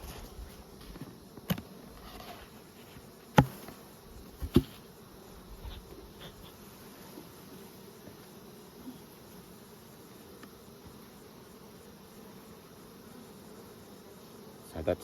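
Honey bees hum faintly around an open hive while honey supers are added at Nymboida, a low continuous drone with a few sharp knocks and taps from hive handling.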